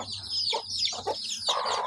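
Hens in a chicken pen give a few short, close clucks and squawks in quick bursts.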